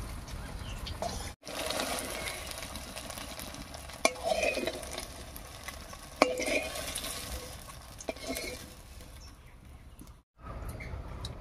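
Paneer (chhana) fritters frying in a pan of hot oil, giving a steady close sizzle with a few brief utensil clinks and no talking.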